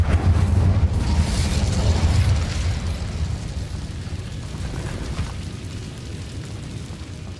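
A fiery spell is cast in the video game Hogwarts Legacy: a heavy low whoosh and rumble bursts up and then slowly fades into a softer lingering roar, with no talking over it.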